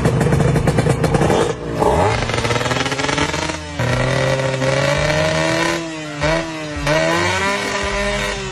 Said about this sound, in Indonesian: suara motor 2 tak yang menjadi ciri khas